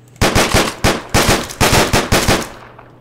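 Loud, rapid video game gunfire comes in repeated short bursts of automatic shots, several volleys in quick succession, close and dominant with no talking over it.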